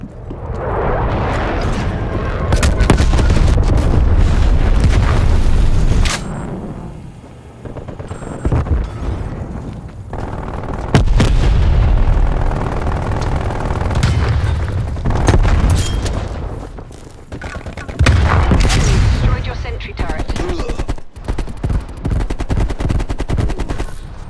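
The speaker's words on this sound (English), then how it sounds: "Sit rep, napalm strike inbound." A napalm strike pounds the battlefield in Call of Duty Black Ops Cold War: loud, close rumbling explosions roll in three long waves, mixed with rattling gunfire and booming impacts, with brief quieter gaps between them.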